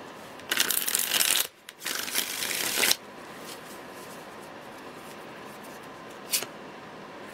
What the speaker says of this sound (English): One more shuffle, please.